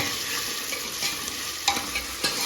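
Spices tempering in hot oil for an Indian home-cooked dish, with asafoetida added: a steady close sizzle and crackle, with a few sharper pops and clinks of stirring, and no talking.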